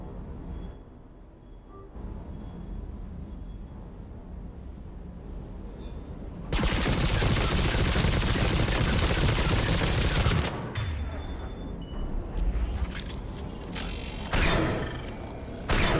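Sustained burst of rapid weapon fire in the video game Mass Effect 3, loud and dense for several seconds after a quieter stretch, followed by scattered shorter shots and clatter.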